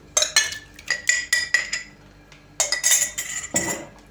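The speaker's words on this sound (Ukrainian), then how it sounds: "І знову перемішуємо." A spoon clinks repeatedly against a bowl while honey cake batter with oil and kefir is stirred, giving bright rhythmic scraping taps in bursts with short pauses, close and fairly quiet.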